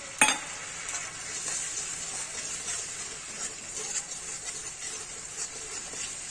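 Garlic paste gravy sizzles steadily in a pan while being stirred, a sharp clatter at the start and then a constant close-up hiss throughout.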